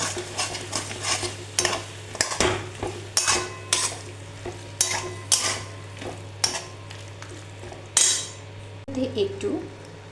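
Dry chili chicken coated in chili sauce is stirred in a pan, with rhythmic metal scrapes and clinks of a spatula repeating every second or so over a faint sizzle.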